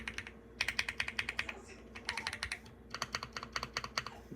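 Keys clack on a custom mechanical keyboard with an aluminum case, typed up close in quick runs of crisp strokes separated by short pauses.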